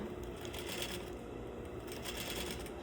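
A sewing machine stitches a gathered sleeve cuff with a steady, fast mechanical chatter that runs unbroken and close by throughout.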